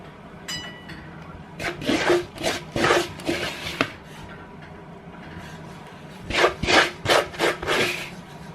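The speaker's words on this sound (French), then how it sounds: "je viens donc mettre une autre couche de kunefeh par-dessus pour recouvrir" Shredded kunefe pastry soaked in clarified butter is laid and pressed into a pan as a second layer, giving close, rough rustling and rubbing in two bursts of short strokes separated by a quiet pause.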